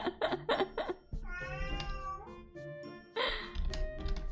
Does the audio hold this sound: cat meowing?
yes